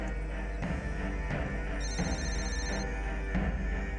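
A telephone rings with repeated electronic bell-like pulses over a steady low hum, moderately loud and alone, during a dramatized crime show scene.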